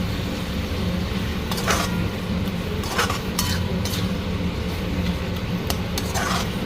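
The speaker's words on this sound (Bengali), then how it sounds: "এখন দেবো টমেটো।" Methi leaves frying with spices as tomato goes in, a steady low pan sizzle with scattered clinks and scrapes of a spoon stirring against the pot, close and continuous, with no talking.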